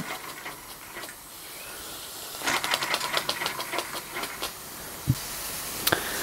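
A Linemar Atomic Reactor model steam engine burning fuel tablets starts up, hissing softly and then ticking in a quick, light mechanical rhythm, with a few sharp clicks near the end.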